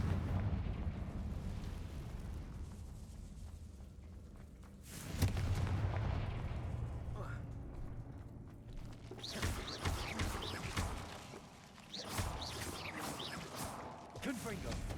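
Repeated Confringo blasting-spell explosions in Hogwarts Legacy, several loud booming bursts with crackling debris spread through the stretch, the biggest around the middle and later ones in quick succession, with game voices talking between them.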